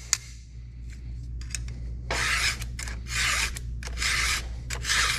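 Short rasping strokes of a file sharpen a damaged chainsaw tooth at a 25-degree angle, close and moderately loud, with a few light clicks between strokes.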